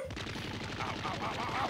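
Rapid cartoon gunfire bursts from an animated Dragon Ball Z Abridged fight, dense and continuous over a busy soundtrack, with faint voices mixed in.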